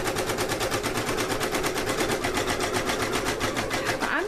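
An embroidery machine sews out a design on a onesie held in a hoop, producing a close, loud, perfectly even train of rapid stitching thumps that runs steadily without pause.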